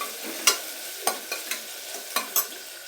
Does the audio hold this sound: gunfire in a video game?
no